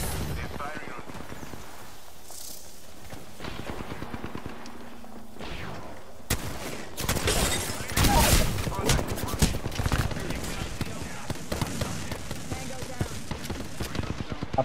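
Gunfire in the battle-royale game Apex Legends comes as rapid bursts of shots, faint at first and then denser and louder in the second half, with a player's voice talking over it.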